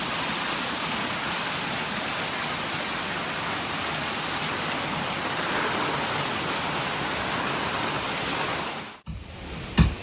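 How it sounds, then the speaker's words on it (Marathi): Heavy monsoon rain pours steadily alongside a rushing waterfall near Devgad, a loud, dense wash of noise for about nine seconds before it cuts off abruptly to a quieter moment. "मंडळी जबरदस्त पाऊस दिलेलो हा"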